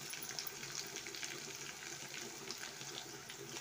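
Garlic and ginger sizzle with chilli and onion in a frying pan, a faint, continuous hissing crackle with no talk over it.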